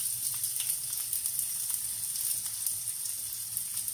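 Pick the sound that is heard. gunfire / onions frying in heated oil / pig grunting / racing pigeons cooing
onions frying in heated oil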